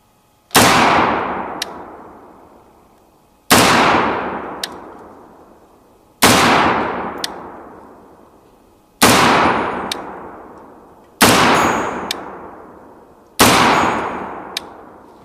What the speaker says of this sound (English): Watch for the links to drop out and the rounds to come out from the standard ejection